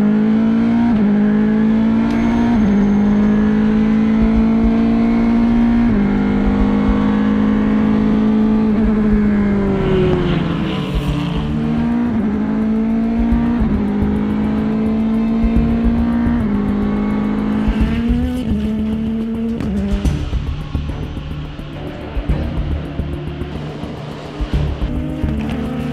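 A race car engine drones loudly and continuously on a racetrack in Malaysia, its pitch rising and falling as it shifts and revs around the track.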